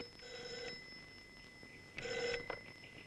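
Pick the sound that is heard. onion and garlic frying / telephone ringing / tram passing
telephone ringing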